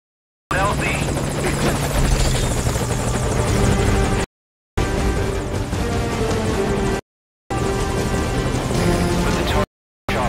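Loud close helicopter rotor and engine drone from the video game Metal Gear Solid V: Ground Zeroes, a steady thrumming roar broken by several abrupt silent cuts.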